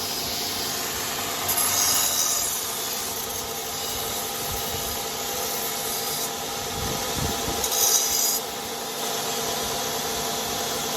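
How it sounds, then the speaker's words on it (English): An abrasive grinder taking the hard cut edge off a pair of forged blacksmith tongs: a steady, fairly quiet rasping rush that swells into two louder bursts of grinding contact, with no talking. "I'm gonna grind this edge so that it's more comfortable to the hand."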